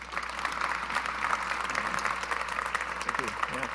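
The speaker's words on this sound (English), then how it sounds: "Ladies and gentlemen, a hand for Dylan Jones." Audience at a trophy presentation applauding, a steady wash of clapping heard from some distance at moderate volume throughout.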